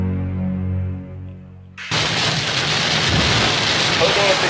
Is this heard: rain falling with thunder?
yes